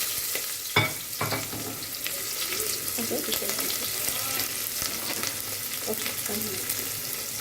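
Cloves, cinnamon stick, cardamom and onion fry steadily in hot oil, a continuous close sizzle with a sharp clatter near the start and soft stirring scrapes throughout, no talking.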